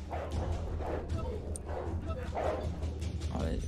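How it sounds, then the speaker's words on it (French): Wolf dogs in The Bonfire bark in several short bursts over a low droning hum, fairly loud and close, with a few yips between the barks. "Non, c'est des chiens. Des chiens loups."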